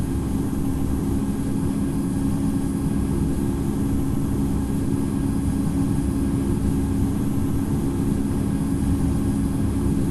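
Simulated Airbus A220 jet engines hold a steady, loud, low droning roar at takeoff thrust in the Infinite Flight flight simulator, continuous with no voices.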